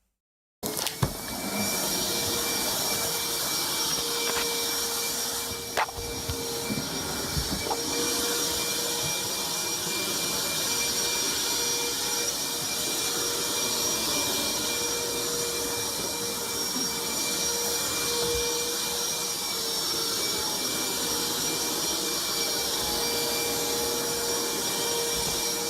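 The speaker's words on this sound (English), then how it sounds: "it's too soon to vacuum up water." A vacuum cleaner runs continuously at close range for the whole stretch, a loud, steady roar with a high whine, sucking up water in an apartment, with a few faint knocks and clicks early on.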